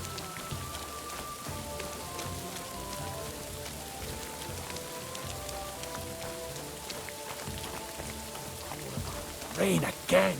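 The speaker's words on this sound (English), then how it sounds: "Rain again." Rain falling in Kingdom Come: Deliverance II, a steady patter of drops on surfaces under a soft musical score, with brief voices near the end.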